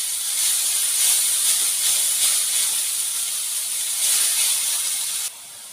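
Fresh green coriander hisses steadily as it is lightly roasted in a hot pan, a continuous bright sizzle that holds level for several seconds before dropping off abruptly near the end.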